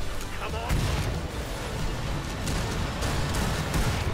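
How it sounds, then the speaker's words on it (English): Explosions in a video game rumble as a dense, continuous barrage of booms and blasts, loud and layered, with heavy low rolling thuds throughout and no clear pauses. "It's, it's kind of funny hearing all the explosions."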